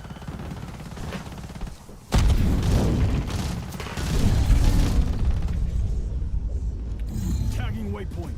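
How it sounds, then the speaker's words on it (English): In a video game, an incendiary grenade is thrown and bursts into a loud, crackling roar of fire that burns on steadily, with game speech and other effects over it. "Throwing incendiary."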